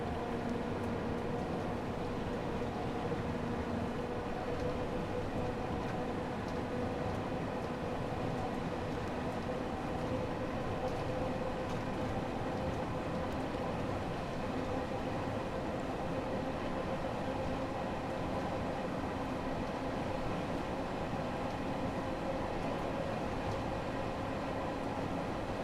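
A London Underground train in Train Sim World pulls away from a station, its steady rumbling drone and traction whine holding at a constant level throughout, with no voices.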